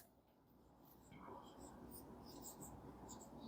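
Marker or chalk writing on a board during a maths lesson, a soft steady scratching of strokes that continues quietly and close through the whole stretch.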